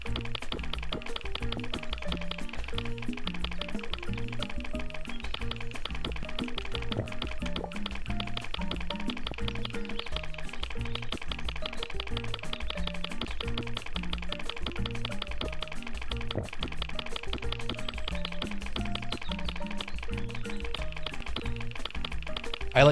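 A puppy laps up a puddle in a bizarre indie game set in a trapped digital hotel: a loud, rapid, wet slurping loop runs without pause over a steady rhythmic game backdrop, with no talking.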